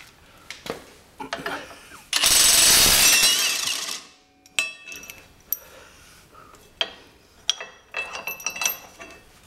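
A RIDGID 18V brushless cordless half-inch impact wrench drives screws in short bursts, with one sustained loud hammering run of about two seconds among scattered clicks and knocks, up close, with some talk in between.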